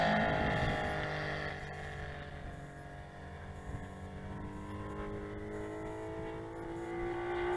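A Saito FG90 engine drives a model Corsair airplane through the air with a sustained buzzing drone whose pitch sweeps up and down as it maneuvers, heard from a distance with no talk.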